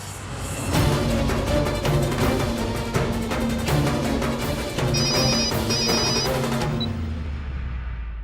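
A phone ringtone plays loudly and steadily as a melodic tune with repeating beeps, then cuts off near the end.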